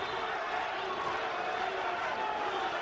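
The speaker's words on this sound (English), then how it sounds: "The crowd chanting, Duran, Duran." Boxing arena crowd at a Camacho versus Duran fight, a dense, steady roar of many voices chanting throughout, loud and continuous with no clear breaks.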